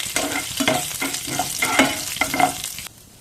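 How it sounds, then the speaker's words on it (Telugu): Cumin, mustard seeds and urad dal fry in hot oil, crackling and sizzling up close as they are stirred in repeated scraping strokes, then the sound drops off sharply at the end. "1 స్పూన్ జీలకర్ర, 1 స్పూన్ ఆవాలు, 1 స్పూన్ మినపప్పు. ఇవి 2 కొద్దిగా వేయించుకుందాం."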